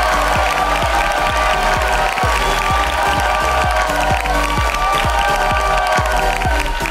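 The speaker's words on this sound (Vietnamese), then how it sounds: "mọi người vỗ tay cho hai bạn nữ rất xinh đẹp ngay sau đây" A studio audience at a Vietnamese TV dating show claps and cheers, thick and continuous, over loud rhythmic music with a pounding beat.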